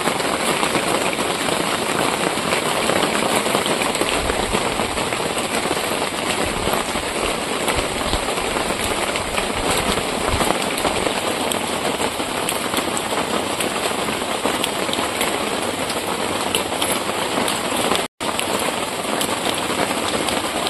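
Steady, dense rain falls continuously, loud and even throughout with no pauses, during a cooking session with water lily stems, and no one speaks.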